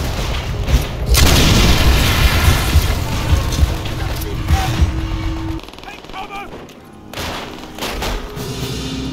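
A panzerschreck fires at a tank during a Call of Duty: World at War battle, heavy booming blasts and rattling gunfire that fill the scene loudly, with shouted voices over the combat.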